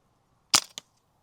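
A single sharp gunshot cracks close by, followed a split second later by a smaller echoing report, heard during a shooting-position test, with nothing else in the background.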